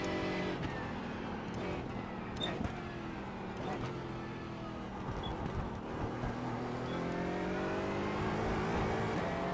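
A GT4 race car in the iRacing sim screams through gears, engine pitch rising and falling with shifts and brief lifts, other cars audible nearby, fairly faint overall.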